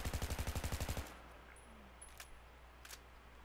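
Video game M416 rifle with a heavy barrel firing full auto: a rapid, even burst of about fourteen close, loud shots over one second, then abrupt quiet with faint metallic clinks and low room noise.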